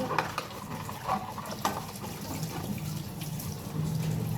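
Lunch bag being washed under a running tap, steady splashing water with small knocks and rubbing sounds close by.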